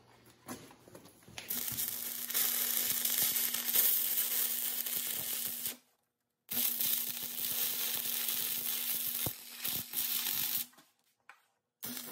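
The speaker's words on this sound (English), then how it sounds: "I'm gonna weld them from the bottom" Welding metal pieces from underneath while building a belt grinder gives a steady crackling sizzle, with a faint constant hum under it. It runs in two long bursts with a short silent pause between them, close and moderately loud.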